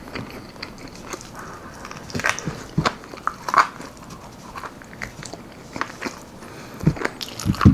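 Almond flour chicken wings, keto-style, are bitten and chewed close up, with irregular crunchy bites and moist chewing sounds in an otherwise quiet room.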